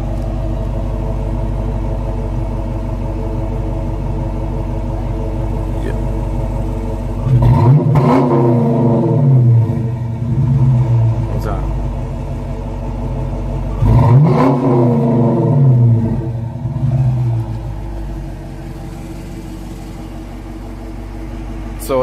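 Car fitted with Flowmaster Super 10 mufflers idling with a deep steady rumble, then revved hard twice in quick bursts that rise and fall, settling back to a loud, throaty idle between and after the blips.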